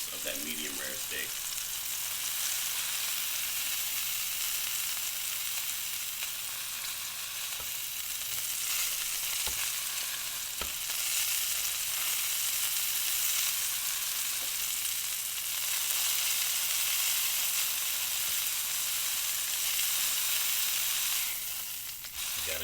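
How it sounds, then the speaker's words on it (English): Grass-fed ribeye steak sears in a hot pan, its fat browning into a crust, giving a steady, loud, close sizzle that runs unbroken throughout with faint crackles. "let that fat sear in the pan for more flavor"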